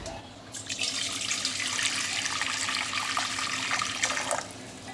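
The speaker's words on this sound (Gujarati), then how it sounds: "હવે તેની અંદર આપણે ગરમ પાણી લઈશું" A steady, close stream of hot water pours into a metal pot for several seconds and then tapers off.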